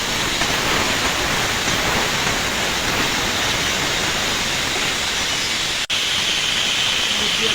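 Khichuri hits hot oil tempered with five-spice in a pan, giving a loud, steady sizzling hiss that runs unbroken, with a brief click near the end.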